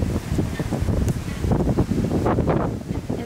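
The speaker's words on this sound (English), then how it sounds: "I want you guys to see how windy it is outside." Strong wind roars and buffets steadily, with gusty rushing noise and rumbling throughout, no voices.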